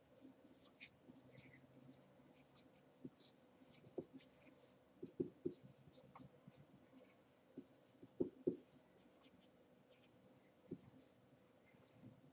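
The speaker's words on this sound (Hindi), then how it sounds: "और अगर हम यहाँ पे लिखना चाहें तो हम इसको लिख भी सकते हैं इस तरह से" Faint scratchy strokes of writing on a board during a lecture, in irregular short bursts, with soft talking underneath.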